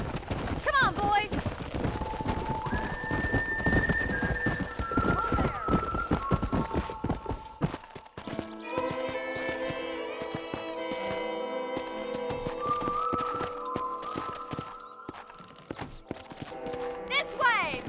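Horse hooves clip-clopping in the video game Red Dead Redemption on PC, a steady rhythmic beat under game music and a voice urging the horse on, with a brief whinny.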